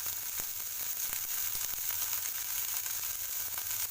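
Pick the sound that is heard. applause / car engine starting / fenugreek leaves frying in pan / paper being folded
fenugreek leaves frying in pan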